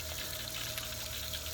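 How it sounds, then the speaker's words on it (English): Water running steadily through a Karcher K4 pressure washer being checked for a leak, a continuous rushing flow with a faint pump hum and no pauses. "let the water go through like a few minutes"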